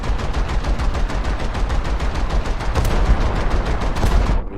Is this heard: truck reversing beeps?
no